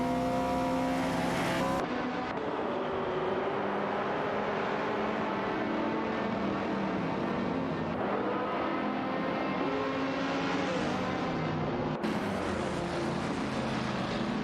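Race car engines in an AI racing video game drone loudly and continuously, with a layered high-pitched whine that rises and shifts as the cars accelerate. Abrupt cuts break the sound at a couple of points. No talk is heard.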